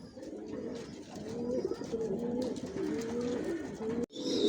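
Purebred Johnson-line racing pigeons coo softly and continuously inside a loft, several birds overlapping in low, rolling calls, with a brief break near the end.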